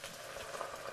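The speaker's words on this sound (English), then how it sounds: "Just sizzling." A brief, quiet crackle and hiss of something frying in a hot pan, soft and steady.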